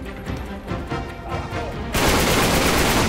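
Rapid bursts of gunfire from the video game Uncharted 3 crackle through a busy firefight, building into dense, loud, continuous shooting in the second half, with faint voices mixed in.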